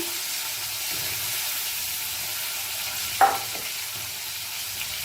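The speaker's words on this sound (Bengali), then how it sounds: "তেল দিয়ে আমি আলু পটলটা একটুখানি ভেজে নেব" A steady, even sizzle of potato and pointed gourd frying in oil runs throughout, with one brief clink of a utensil partway through.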